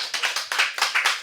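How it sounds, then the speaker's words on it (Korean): A church congregation claps in a quick, steady rhythm during an afternoon Sunday service, close and clear, about a dozen evenly spaced claps with no talking. "우리 박수 좀 다시 한번 해줘요."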